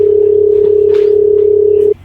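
A telephone tone sounds while a call is placed to a doctor: one steady, loud electronic hum that holds for about two seconds and then cuts off abruptly.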